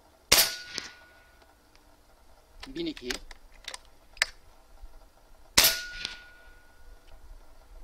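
Wrangler Phenom PCP air rifle fired with a moderator: two sharp, close shots several seconds apart, with faint handling clicks and a brief murmured voice between them.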